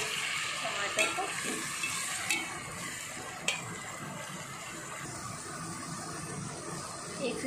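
Tomatoes fry in a pan with onions for a fish curry, giving a steady, close sizzle with a few sharp clinks of a utensil against the pan and no voices.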